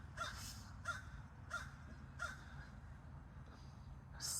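Blackbirds give harsh, raspy caws, five evenly spaced calls about two-thirds of a second apart, moderately near over a steady low background hum, with no talking.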